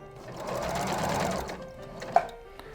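A sewing machine stitches over the straps of an apron, giving a close continuous motor whir that eases off midway, followed by a sharp click and faint handling.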